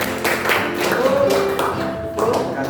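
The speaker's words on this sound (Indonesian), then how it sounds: "berikan tepuk tangan untuk kita semua" A group of students in a classroom during a teaching session claps hands in a brief burst of taps that swells, eases and picks up again near the end, with faint voices mixed in.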